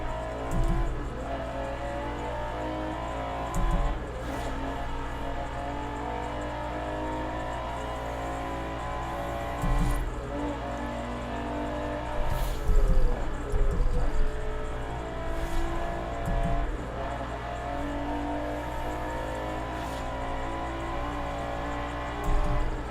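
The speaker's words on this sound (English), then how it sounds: "I really love how this car sounds though." A car engine drones steadily for over twenty seconds, a low continuous rumble with occasional deeper thumps and brief swells as it is driven, heard from inside or close by with no talking.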